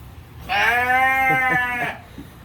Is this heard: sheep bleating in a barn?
yes